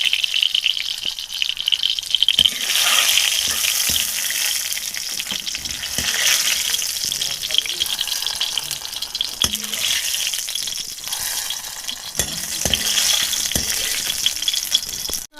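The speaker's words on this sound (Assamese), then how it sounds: "এতিয়া এইখিনি দাইলত ঢালি দিম" Hot tempering with ginger and garlic is poured into dal and bursts into a loud, bright sizzle that hisses on steadily and close, with occasional clinks of a utensil.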